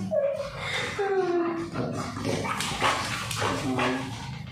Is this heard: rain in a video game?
no